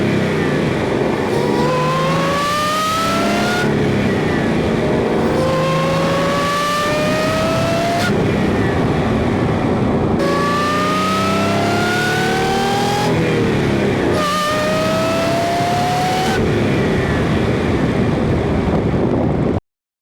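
An Audi S5 pulls hard in a low gear, the engine note rising in repeated revving sweeps with gear changes between them, loud and close with wind rush and no voices.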